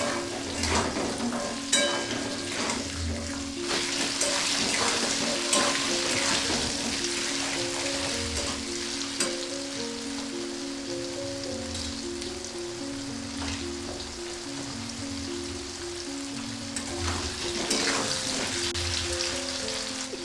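Potatoes and carrots fry in oil in a covered wok, a steady close sizzle with soft crackles and occasional stirring scrapes, continuous with no talk.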